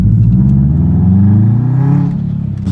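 A catless Subaru Forester XT exhaust booms loud and close, a deep, rumbling drone that rises in pitch as the engine revs, then eases slightly at the end.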